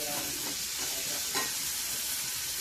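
Tomatoes and a crushed chili thecha stirred into a frying pan for aloo paratha filling, giving a steady close sizzle with soft scraping stirs, loud and unbroken throughout.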